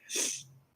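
A single short sneeze, a quick breathy burst of under a second, heard close and alone.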